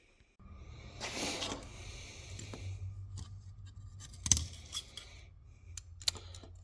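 Scissors cutting open a plastic parts bag for a 1964 Chrysler brake job, close and quiet, with a crinkly snip and rustle followed by a few sharp cuts and plastic crackles.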